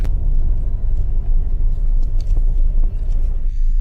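Inside a Fiat car on a rough road in Spain, a loud, steady low rumble of engine and road noise continues with bumps and rattles.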